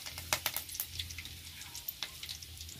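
Mustard seeds, cumin and fresh curry leaves crackle and sizzle in hot oil in a kitchen pan, with quick irregular pops over a soft frying hiss, fairly faint and close, with no voices.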